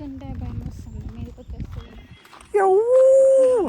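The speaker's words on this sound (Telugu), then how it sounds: "కుక్కలు కూడా ఉన్నాయి ఇక్కడ చూడండి" Quiet talk and rustling under a tamarind tree on the road to Ananthagiri Hills, Hyderabad, give way to a dog's long, sustained howl rising up loud and close.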